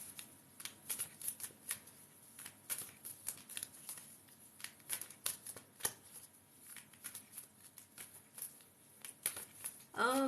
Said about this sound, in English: Let's shuffle the moon cards.